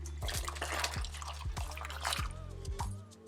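Half a liter of boiling water poured into a chicken, butter bean and tarragon stew pot, a quiet splashing and dripping stream with soft kitchen clatter and no talk.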